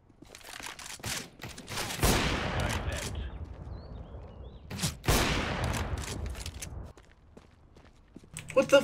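Bursts of automatic gunfire in the shooter game CS:GO, two loud volleys a few seconds apart with footsteps and game noise in between and little talk.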